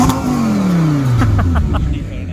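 An Audi R8 V10 Spyder revs with its exhaust valves open, a loud close engine note swelling then falling away in a smooth descending sweep, followed by a few crackling pops as the revs drop.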